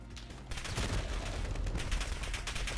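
A 75-round AK rifle in Modern Warfare fires in a long, loud, continuous automatic burst that runs without pause from start to finish.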